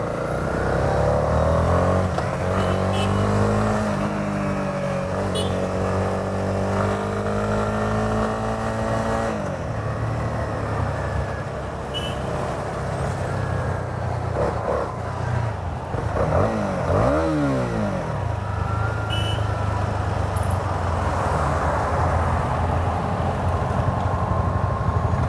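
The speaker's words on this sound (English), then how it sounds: "This motorcycle definitely is a pocket rocket. It pulls like crazy." A Honda 300cc motorcycle accelerates while being ridden, its engine note climbing steadily through the gears, dropping at each shift, then rising again, loud and close with wind rush.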